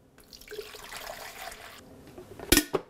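Water poured from a carafe into a Mr. Coffee automatic drip brewer, a steady splashing trickle for a couple of seconds ending in a couple of sharp clunks, close and alone.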